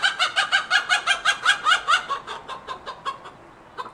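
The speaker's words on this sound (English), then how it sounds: "I'm actually hanging out with my chickens." Backyard hens cluck in a steady, rhythmic run of close, fairly loud calls that gradually tail off, with no one talking.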